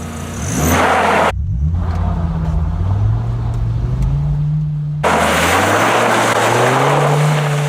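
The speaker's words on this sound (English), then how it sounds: "I'm going to slam on the gas pedal and just see how the Viper handles" A Dodge Viper accelerates flat out, its loud engine note climbing steadily in pitch, dropping briefly at two gear changes before rising again, close and unbroken throughout.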